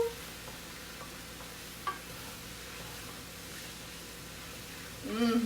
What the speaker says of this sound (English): We can continue with the saute process.